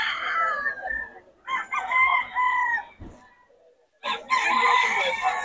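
A rooster crows loudly and close by among chickens offered for sale in a market, with several crowing bursts broken by short pauses and faint talk underneath.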